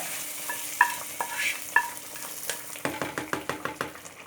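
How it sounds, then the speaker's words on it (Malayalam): Mustard seed tempering sizzles as it is poured into a taro stem curry, then a spoon clinks and stirs in quick, regular strokes close by, with no talking. "നമ്മുടെ കടുക് താളിപ്പൊക്കെ റെഡി ആയിട്ടുണ്ട് ഇത് നമ്മൾക്ക് കറിയിലോട്ട് ഒഴിച്ചു കൊടുക്കണമല്ലോ"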